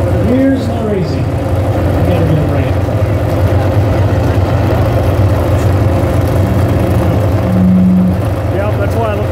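Full-size cars idle and rumble at a demolition derby show in Richland Center, Wisconsin, a steady low engine drone continuing throughout beneath a loud announcer and crowd chatter.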